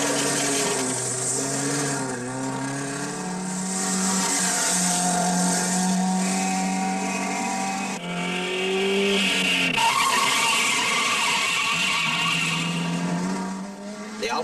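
A 1958 Alfa Romeo rally car climbing an Alpine pass in the Coupe des Alpes, its engine loud and near, revving and shifting through rising and falling pitches with brief tire noise, no talk.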